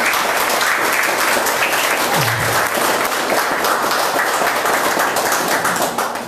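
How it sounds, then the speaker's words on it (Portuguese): A congregation claps for Jesus during a Portuguese-language church service, steady dense applause filling the room for the full stretch, loud and continuous, with a brief low vocal sound partway through. "Você pode dar uma salva de palmas para Jesus?"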